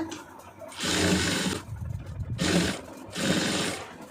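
A sewing machine stitches a chudidhar with a long running stitch, running in three distinct close bursts, each a loud steady whir separated by short pauses.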